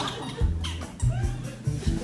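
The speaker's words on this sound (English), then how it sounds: "got a bit of a squeaky chair." A squeaky chair creaks in several short, repeated squeals close by, each lasting a fraction of a second, with low thumps as someone shifts their weight in a quiet room.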